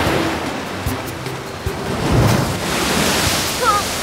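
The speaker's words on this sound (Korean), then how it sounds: "네 말대로 강물이 무지 빠르게 불어나네." A fast river swelling with rainy-season runoff gives a steady, loud rush of water that fills the whole clip, with surges but no break.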